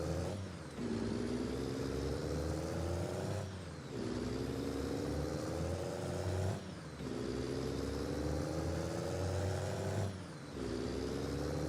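Truck engine in a Nebraska farming video game, a steady low drone that rises through repeated gear pulls, each run cut by a brief dip roughly every three seconds, constant and fairly quiet with no talk.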